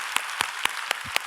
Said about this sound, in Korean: 어깨를 펴보시고 우리 하나님께 영광의 박수 올려드립니다